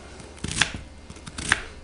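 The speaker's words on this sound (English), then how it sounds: "So we'll finish chopping this onion" A knife chops through a red onion on a cutting board, with a few scattered sharp taps and two louder strikes standing out, close and fairly quiet.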